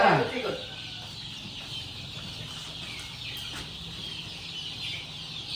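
Chickens cluck and chicks peep on a gamefowl farm, with one loud call at the start and then softer scattered clucking under nearby voices.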